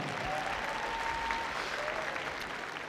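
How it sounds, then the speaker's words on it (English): Steady applause from a large audience at a Crufts dog agility event, a dense continuous wash of clapping filling the whole stretch with a few faint whistles and crowd noise underneath. "give her a round of applause anyway"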